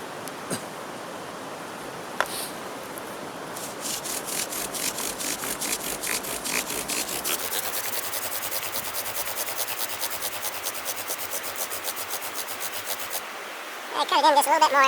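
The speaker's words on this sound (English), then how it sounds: "See if I can get something going there with the bow drill." Steady rhythmic rasping of wood rubbing on wood, back-and-forth strokes growing faster and denser, continuing alone for several seconds.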